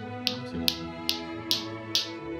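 Lato-lato clacker toy balls knock together in a steady rhythm, six sharp clacks about every 0.4 seconds, close and clear over a low background hum.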